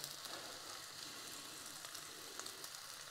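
A burger patty frying in a pan gives a steady, close hiss of sizzling fat with faint pops and crackles throughout, no voices over it.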